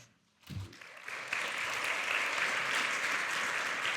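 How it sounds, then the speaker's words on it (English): Audience applause for presenters at a medical oncology training day, starting after a brief quiet moment and swelling into steady, dense clapping from a large room that carries on to the end. "another round of applause to all our presenters"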